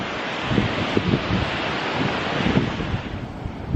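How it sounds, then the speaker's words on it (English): Ocean waves crash and wash onto El Matador State Beach in Malibu, a loud continuous surf roar with heavy wind buffeting the microphone and no voices. "I don't know if you can hear me with the crashing of the ocean"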